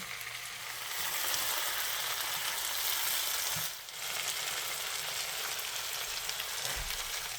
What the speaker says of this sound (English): While your chicken is frying